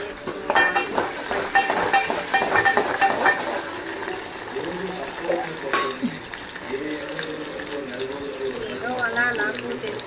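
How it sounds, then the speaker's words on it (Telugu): Onion, dried red chillies and curry leaves frying in a pan give a loud, steady sizzle up close, with stirring scrapes and a sharp crackle midway, and someone speaks over it. "ఎల్లిపాయ కొంచెం వేగిన తర్వాత ఎండుమిర్చి, కరివేపాకు అన్నీ వేసుకోవాలి."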